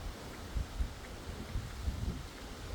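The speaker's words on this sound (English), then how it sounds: "But today is so windy" Wind gusts buffet the microphone on a windy nature walk among trees and shrubs, producing a low rumbling roar with irregular bursts and a faint rustle throughout.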